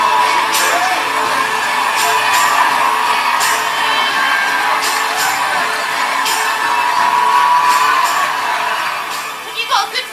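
A large crowd cheers at a summer-of-sport celebration and victory parade, a dense, steady roar of whoops and yells that stays loud throughout, with brief shouts rising above it near the end.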